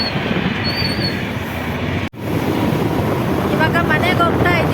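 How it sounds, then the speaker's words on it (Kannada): A train passes nearby on a rainy evening in Bangalore, a loud, continuous rumble of wheels on rails that runs throughout, with high wheel squeals near the end. "ಟ್ರೈನ್ ಹೋಗ್ತಾ ಇದೆ."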